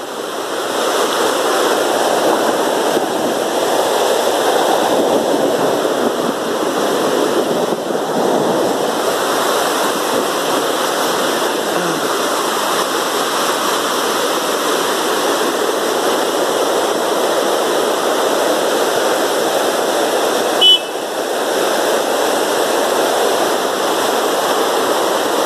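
The flooded Meléndez River south of Cali rushes in a loud, continuous roar of churning water that stays steady and close throughout, with one brief knock near the end.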